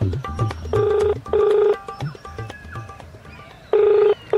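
A telephone rings unanswered in repeated bursts of electronic trilling, loud and close, with short pauses and low background noise between rings.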